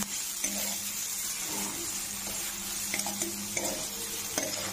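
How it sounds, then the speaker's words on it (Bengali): Ginger paste frying in a pan for a Bengali egg curry, a steady close sizzle with light stirring scrapes throughout, no voices. "আদা বাটা দেওয়ার পর অল্প একটু হালকা ভেজে নেব আরেকবার।"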